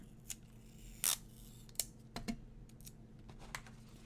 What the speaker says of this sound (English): Now, I'm going to take a piece of Scotch tape and put it right there